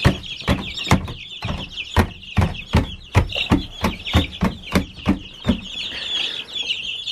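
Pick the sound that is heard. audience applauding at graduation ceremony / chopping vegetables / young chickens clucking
young chickens clucking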